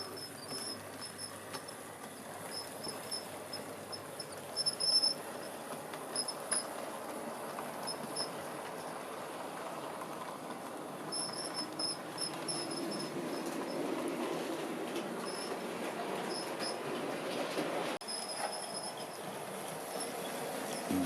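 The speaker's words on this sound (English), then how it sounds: "let's see this one set off down the track. Quite a smooth little runner." LMS model train running on a model railway track in East Anglia, a faint steady rolling rumble with high thin squeaks from a wheel recurring throughout, no talking.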